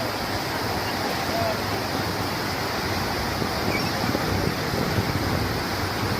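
Loud, dense roar of the flooded Lendi river near Degloor after heavy rain, steady and unbroken throughout, heard close with some wind buffeting on the microphone.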